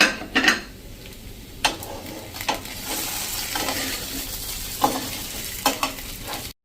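Muthiya stirred in a pan over a slow flame, a steady close sizzle broken by several sharp scrapes and knocks of the spoon against the pan, with no talking.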